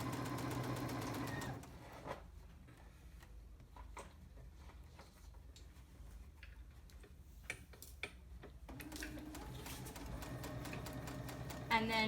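Sewing machine stitching a lapped zipper, a soft rapid ticking whir that starts and stops, with quiet handling sounds and a pause in the middle before stitching resumes.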